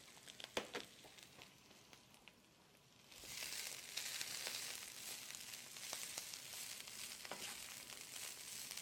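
Kale leaves sizzle in a hot pan and are stirred often. There are a few quiet scrapes at first, then a sudden louder, sustained hissing fry, broken by occasional clacks of the stirring utensil.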